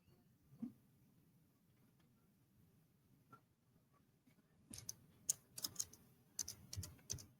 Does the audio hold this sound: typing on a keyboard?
yes